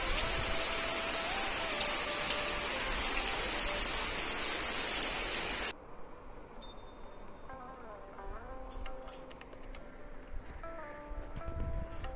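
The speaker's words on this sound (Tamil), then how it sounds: "நல்ல மழை பெஞ்சிட்ருக்கு பாருங்கள்" Steady rain hisses loudly for several seconds, then drops off sharply into quieter patter with scattered drips and faint insect-like tones.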